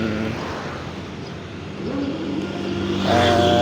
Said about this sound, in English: I see the car and motorcycle in the road